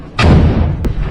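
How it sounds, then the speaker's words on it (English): A grenade goes off inside a building during a combat assault, a loud close blast with a heavy rumbling tail, followed shortly by a second sharp crack, with no talking. "Commander decides to throw grenades inside instead of storming them in the front."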